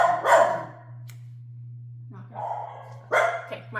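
Dogs bark nearby: one sharp bark, a pause filled only by a low steady hum from a tumbler laser-engraving setup, then several more barks close together near the end.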